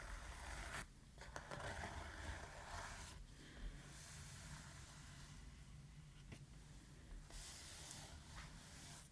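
Fingernails scratch and tap on a stretched canvas in a soft, close ASMR setting, a continuous papery rasp broken by a few light taps and brief pauses.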